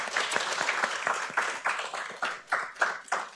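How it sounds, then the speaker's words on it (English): Applause from an audience at a general assembly for a panel, many hands clapping with distinct individual claps audible, moderately loud and fairly close, holding steady throughout. "So let's give our panel a big round of applause."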